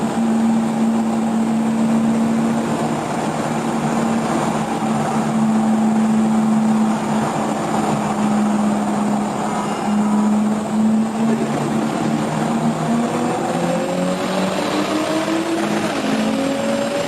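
A Toyota Supra with a 67mm turbo and 850cc injectors runs on low boost, its engine holding a loud, steady drone before the pitch climbs as it accelerates near the end.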